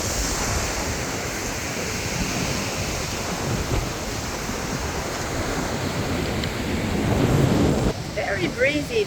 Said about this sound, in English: Very breezy today,